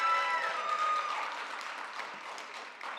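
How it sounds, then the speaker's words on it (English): An audience at an honors awards and induction ceremony claps steadily throughout in a continuous wash of applause at moderate volume, with no talk over it. "I want to hear lots of cheering."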